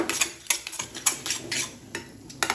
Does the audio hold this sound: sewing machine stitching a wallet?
no